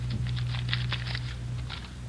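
A deck of playing cards shuffled in an old police radio drama, a quick dense papery patter of riffling cards lasting about two seconds over a steady low hum, with no speech.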